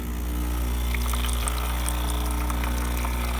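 A Breville espresso machine dispenses hot water with a steady pump hum and a continuous liquid hiss. The sound holds at an even level throughout, with nobody talking.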